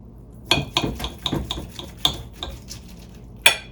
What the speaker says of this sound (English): So I'm just going to cut off like a little piece here.